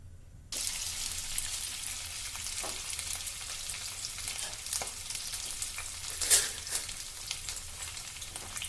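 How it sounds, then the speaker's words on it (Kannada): Boiled, cut potatoes frying in hot oil with cumin in a home kitchen pan, a steady close sizzle starting abruptly after a brief quiet moment, with occasional stirring clinks and a sharper hiss midway; no talking. "ಈಗ ಆಲೂಗಡ್ಡೆ ಬೇಯಿಸಿಟ್ಕೊಂಡಿರೋದು, ಕಟ್ ಮಾಡಿರೋದನ್ನ ಹಾಕೋತೀನಿ"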